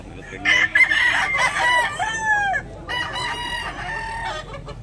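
A bulik talisayon gamecock, a yellow-legged rooster, crows loudly nearby with drawn-out calls broken by sharp clucks, and a faint voice occasionally sounds in the background.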